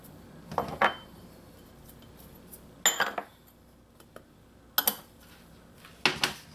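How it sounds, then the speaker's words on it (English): Dry ingredients for a Trini fish pie dough go into a mixing bowl in a kitchen, heard as several brief clinks and scrapes of utensils against the bowl, spaced apart and fairly quiet. "So add all of your dry ingredients in one."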